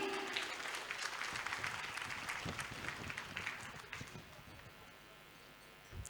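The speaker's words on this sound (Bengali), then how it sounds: "সকলে নিজের জন্য একবার জোরদার হাততালি।" Audience applause at a live stage event, a dense wash of clapping from a crowd that stays steady and then gradually thins and fades toward the end.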